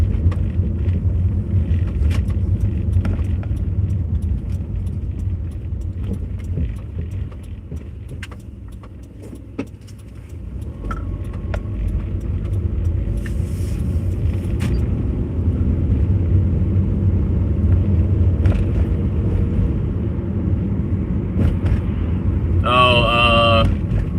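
Car driving on the road in frosty weather, a loud, steady low engine and road rumble heard from inside the cabin, with scattered clicks and a brief high chirp near the end.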